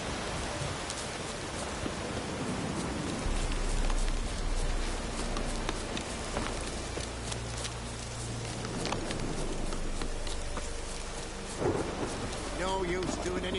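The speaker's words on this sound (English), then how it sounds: "tá chovendo aqui de verdade" Steady rainfall pattering on surfaces with low rumbling thunder rolling underneath in The Witcher 3: Wild Hunt, continuous and dense throughout, with a few brief louder bursts.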